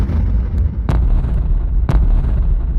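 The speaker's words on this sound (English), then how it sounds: "The explosions were getting closer." Depth charges go off underwater in a deep, continuous rumbling roar, with two sharp, sudden blasts about a second apart cutting through the heavy low drone. No voices.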